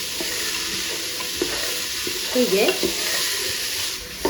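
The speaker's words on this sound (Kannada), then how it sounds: "ನಾನು ಸ್ವಲ್ಪ ಫ್ರೈ ಮಾಡ್ಕೊಳ್ಬೇಕು ಎಣ್ಣೆಯಲ್ಲಿ" Food frying and being stirred in hot oil for a Kannada home-style pulao, steady sizzle with clattering spoon scrapes near mid-clip and a brief spoken word.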